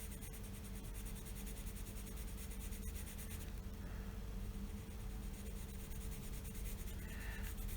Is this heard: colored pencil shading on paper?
yes